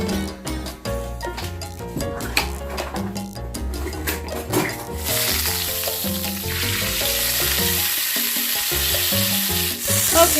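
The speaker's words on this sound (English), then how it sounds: "I have my stove heating up right now with a pan at a high heat so that I can brown this." Chuck roast browning in oil in a pan on high heat, a loud steady hiss that begins midway and holds to the end, following a stretch of background music.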